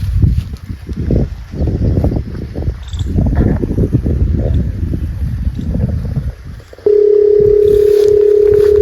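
A telephone call tone on a farm during a squabble over irrigation water turns: after rustling and wind noise, a steady, loud, constant tone begins near the end and holds without a break.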